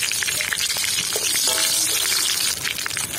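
Bay leaf and green chilli frying in hot oil for a Bengali moong dal with rohu fish head, a steady close sizzle and crackle running throughout with no talk.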